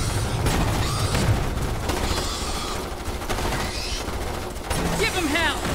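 Rapid gunfire in the video game Starship Troopers: Terran Command, a dense continuous battle barrage with voices shouting over it.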